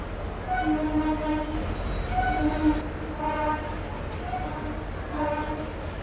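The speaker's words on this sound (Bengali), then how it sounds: "উপর দিয়ে ট্রেন যাচ্ছে" A train rumbles across a bridge overhead near a river ferry crossing between Belur and Dakshineswar, producing a steady rolling drone with tonal hums throughout, amid background crowd noise.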